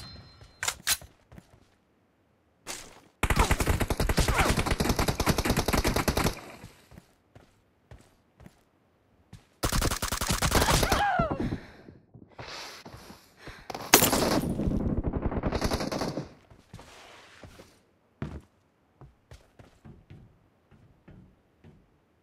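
M416 assault rifle fire in a BGMI team deathmatch, loud sustained automatic bursts of a few seconds each, three main volleys separated by scattered single shots and light clicks.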